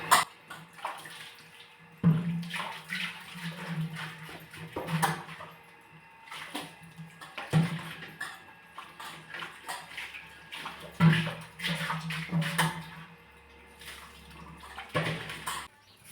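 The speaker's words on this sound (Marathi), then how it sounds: "हे पाणी भरायला लागलेत" Water runs steadily from a tap into containers during household chores, with occasional clanks and knocks of the vessels, moderately quiet and close.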